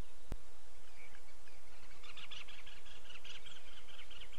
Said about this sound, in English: And I think it was a great spotted cuckoo.